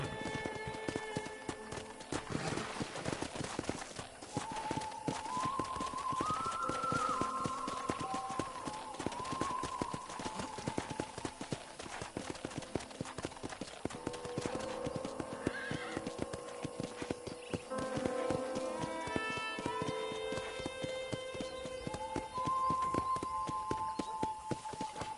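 A horse ridden in the Red Dead Redemption video game, with steady clip-clopping hooves and repeated whinnies over continuous game music.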